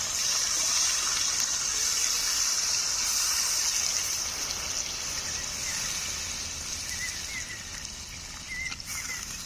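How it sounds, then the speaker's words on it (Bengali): Water poured into a pot of chicken cooking outdoors in a village-style spiced curry, a steady rushing gush that runs nearly unbroken and fairly loud throughout. "এখন পরিমাণ মতো জল দিয়ে দিচ্ছি"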